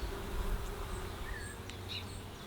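Bees buzz around an open hive frame heavy with honey, a steady close hum with individual insects whining past, moderately quiet and continuous without speech.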